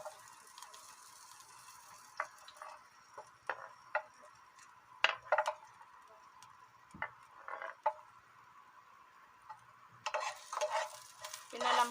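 Ginger dropped into a hot pan for ginataang kamansi, a soft sizzle with scattered taps and scrapes of stirring, a louder burst of frying near the end, close and fairly quiet with no talking.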